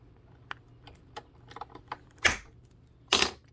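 Music wire for an RC boat's steering is being cut. A few light ticks and clicks of handling come first, then two sharp, close snips about a second apart.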